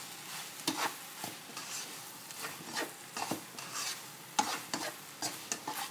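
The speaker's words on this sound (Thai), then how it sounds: "ผัดให้กะเพราสุกค่ะ" Instant noodles stir-fried with chicken and holy basil in a hot pan, a spatula scraping and tossing in irregular strokes over a soft steady sizzle, close and alone with no talk.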